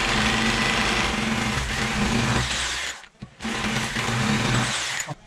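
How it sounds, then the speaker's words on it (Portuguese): A power drill bores into ceramic tile while a glass shower enclosure is installed, a loud, steady high-pitched motor whine that cuts out briefly midway and then starts again at the same strength. "Então agora eu vou furar o outro lado"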